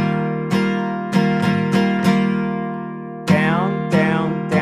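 Steady strummed acoustic guitar chords ring out alone, with sharp strokes falling in an uneven pattern of longer and quicker strums over a sustained tone.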